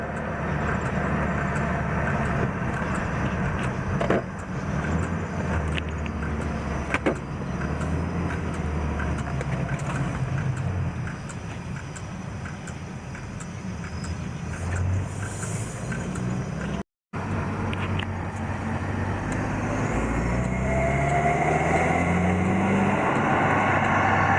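A BMW 320i with a rebuilt N20 engine and an aftermarket turbo cartridge drives along a road, a steady low engine drone and tyre rumble with road noise, briefly cutting out before resuming; no speech.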